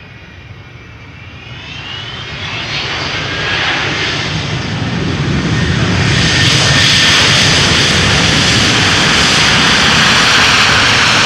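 A twenty-year-old airliner, first flown in June 2003, takes off at Amsterdam Schiphol Airport, its engine roar building from a moderate rumble into a loud, sustained jet blast with a high whine on top.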